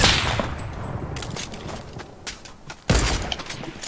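Sniper rifle shots in the Fortnite video game, two sharp bursts of loud gunfire, one at the start and one near three seconds, with scattered crackling shots between and no talking.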